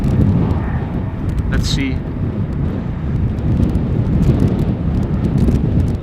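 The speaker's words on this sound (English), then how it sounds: "So there's a Dreamliner from United taxiing to the threshold" A United Boeing 787 Dreamliner taxis toward the runway threshold at Schiphol Airport, a steady low engine rumble mixed with wind buffeting on the microphone, while a man murmurs briefly nearby.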